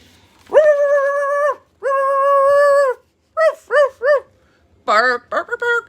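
A human voice imitates a big dog barking: two long, drawn-out bark sounds, then three short clipped ones, and a quick final cluster, loud and close.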